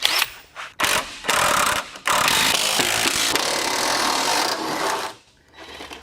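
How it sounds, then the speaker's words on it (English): A power driver undoes bolts on an electric car's battery pack in several loud whirring bursts separated by short pauses, close up and with no talking. "let's start undoing some bolts with my whizzy doohickey"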